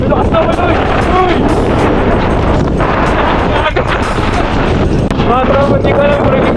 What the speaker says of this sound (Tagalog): sinalubong na kami ng malakas na hangin